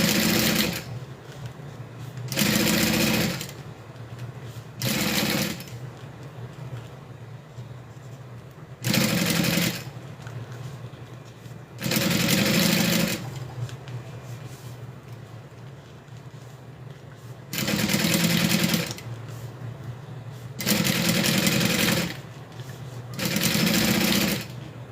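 A sewing machine stitches a zip around a fabric wallet in loud, steady bursts of whirring motor and needle, each run lasting a second or two and separated by short pauses, close to the microphone.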